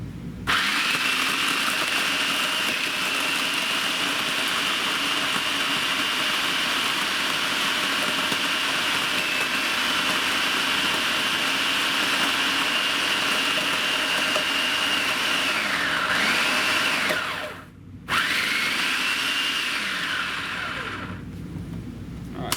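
An electric grinder grinding food scraps for vermicomposting whirs loudly and steadily for a long stretch, its motor dipping briefly near the end before running on.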